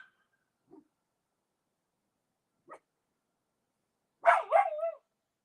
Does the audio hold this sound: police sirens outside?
no